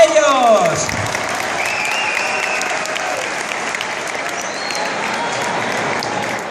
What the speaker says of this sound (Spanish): Pues un fuerte aplauso para ellos.